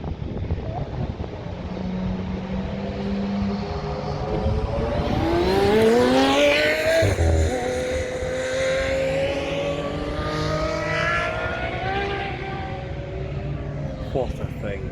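An Aston Martin Valkyrie hypercar approaches and sweeps past at a track event, its engine pitch rising then falling with a loud pass-by swoosh and fading away, with wind noise throughout.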